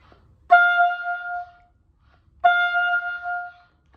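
Two separate sustained oboe notes, each accented with a strong attack and fading off in a small decrescendo, separated by a short silence.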